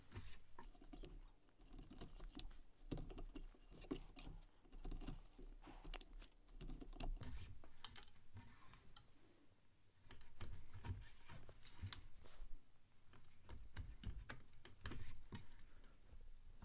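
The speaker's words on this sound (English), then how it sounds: "I finished saddle stitching the seam, good and strong" Hand saddle stitching a leather holster seam with a steel lining: a close, quiet run of small ticks, taps and thread pulls in irregular bursts, with no talk.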